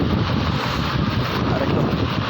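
Strong wind buffets the microphone in a constant, loud roar with no pauses, close and blustery throughout, at a flooded covered court in Antipolo.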